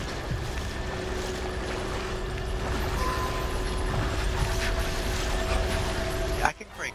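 A mechanical crank ratchets steadily in Resident Evil 5, a continuous clicking, grinding turn over ambient game noise, with a sharp clunk near the end as it stops.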